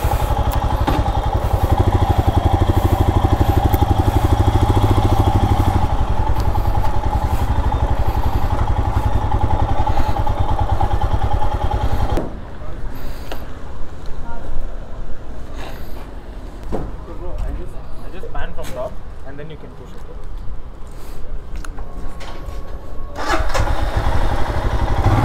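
Royal Enfield Scram 411 motorcycle engine at a public launch event, running loud and steady near the listener for about twelve seconds, then dropping to a quieter idle amid crowd noise and voices.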